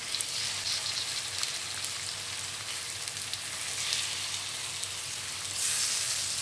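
Chicken satay sizzles steadily in a hot pan, giving a dense, hissing fry with crackles throughout that swells slightly toward the end.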